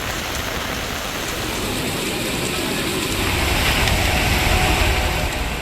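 Heavy rain pours down in a dense, continuous broadband roar over Thiruttani in Tiruvallur district, steady and loud throughout.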